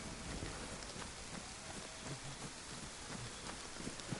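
Rain falls in the video game DayZ as a dense, steady hiss of drops, fairly faint and unbroken, with no voices over it.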